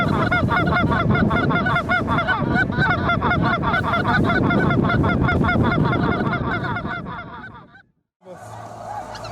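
A flock of migrating geese honks loudly and continuously, many overlapping calls close by, then breaks off abruptly near the end before faint sound resumes.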